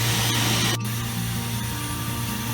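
A high-pressure wand at a car wash sprays down a dusty car, making a loud, steady hissing rush of water alongside a low mechanical hum, with a brief shift in tone partway through.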